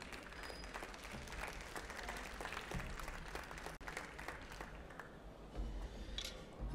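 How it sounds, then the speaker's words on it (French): An audience applauds a Geneva vocational-training team member at a Swiss finger-food culinary competition, a steady, fairly faint wash of clapping that runs the whole time and swells slightly near the end. "on peut déjà applaudir Delphine Rossetti,"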